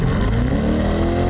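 A 2020 Chevrolet C8 Corvette Convertible Z51 sports car's exhaust rev climbs steadily, a loud, continuous rising engine tone with no talk over it.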